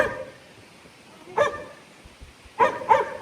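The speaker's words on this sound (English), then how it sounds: "he's barking at the mailman." A dog barks at the mailman a few times at a short distance, one sharp bark followed by a quick pair, with quiet between.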